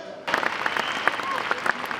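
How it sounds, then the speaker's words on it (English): Crowd on its feet at a Barack Obama rally, bursting into loud clapping and cheering after a brief quiet start, dense and steady with a voice mixed in. "former President Barack Obama took center stage to a crowd that is on their feet, cheering and chanting"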